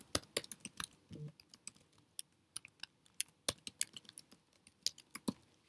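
Fingers type a name and email address on a computer keyboard, producing a close, uneven patter of crisp key clicks with short pauses between bursts.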